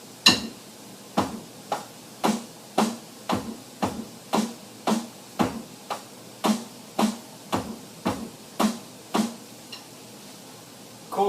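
Drum set groove from a lesson book, a regular run of crisp, evenly spaced strokes mixing low kick and brighter snare hits, played solo at moderate volume with a steady pulse throughout.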